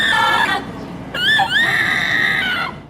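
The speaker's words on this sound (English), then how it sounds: "This AI-powered dummy blinks, jerks, even screams." AI-powered dental school patient robot letting out shrill, high-pitched screams, one cry, a brief break, then a longer wavering scream that rises and holds before fading, loud and close.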